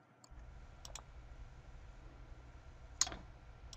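Faint computer mouse clicks in a quiet room: a couple of light clicks near the start and one sharper click later over a soft low hum. There is no talk.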